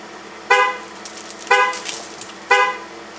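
Car alarm set off by a key fob, horn honking three times in an even rhythm about once a second, loud and close with a faint background hum between blasts.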